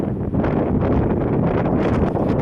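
Strong gusting wind buffets a camera microphone outdoors near the Caxton moats in Cambridgeshire, producing loud, rumbling, uneven blasts that swell and dip continuously.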